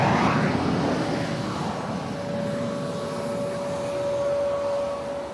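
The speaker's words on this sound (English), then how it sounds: "There's a plane coming behind us there." A plane passes close beside an airport runway, its engine a loud, steady roar that fills the whole span with a sustained tonal hum and no talking.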